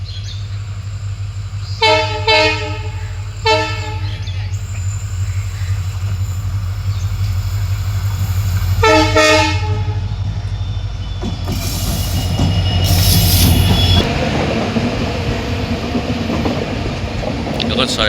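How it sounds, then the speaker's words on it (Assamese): The Saraighat Express approaches past a wetland, sounding several loud horn blasts early on and again midway, then its wheels and carriages rumble and squeal as it rolls close by. "আগৰ ফালে আহি আছে এটা ট্ৰেইন চাব পাৰে"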